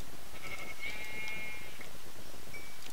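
Sheep bleating in the video game Minecraft, a few short thin bleats spread across a steady background of game ambience.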